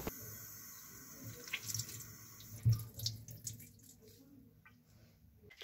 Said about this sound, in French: Et ensuite je viens rincer le gel avec cette éponge et de l'eau.